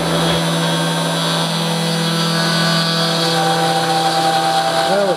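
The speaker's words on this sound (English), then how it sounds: "I'm getting ready to fire up the spindle and let it roll" A desktop CNC machine's spindle milling aluminum whines steadily at a fixed pitch, with layered tonal hums and cutting noise that stay loud and continuous throughout, without talk.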